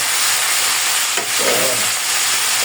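Chicken pieces marinated in Sprite and ketchup sizzle steadily in a hot pan, a continuous loud crackling fry with a brief spatter burst midway and no talking.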